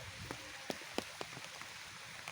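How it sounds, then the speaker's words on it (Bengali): Heavy rain falls all around outdoors, a steady broadband wash with scattered sharper drop hits and splashes close by, no talk. "চারিদিকে দেখেন প্রচুর বৃষ্টি"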